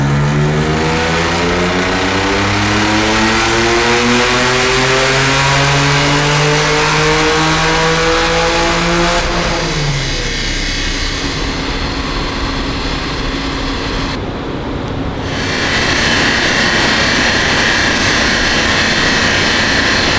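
BMW M2 Competition with a stage 2 tuned S55 engine on a dyno, rising through a loud sustained rev with climbing harmonics, then holding at a high roaring drone to the end.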